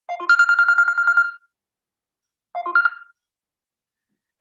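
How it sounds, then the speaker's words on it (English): An indoor lecture on conflict transformation and peacebuilding is interrupted by a mobile phone ringtone: a bright melodic burst of about a second, a pause, then a shorter burst, and the ring starting again at the end. "Sorry, let me turn off my phone."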